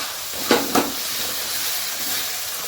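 Peas and cauliflower fry in a pan with a steady, close hiss, broken by two quick scraping clinks early on.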